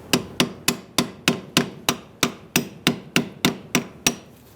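Sharp metallic strikes in a steady rhythm of about a dozen evenly spaced hits, close and loud, as a screwdriver is hammered to bend back the staked tab on a Subaru Forester rear axle nut. No voices.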